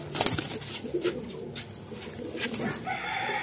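Breeding pigeons in a loft cell coo softly at close range, with other bird calls mixed in, a few brief rustling sounds and a faint background hum.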